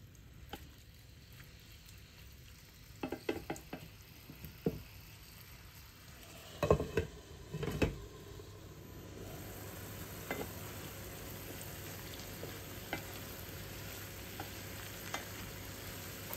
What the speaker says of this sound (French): On va laisser cuire le saumon tranquillement et on va mélanger de temps en temps pour pas que ça accroche.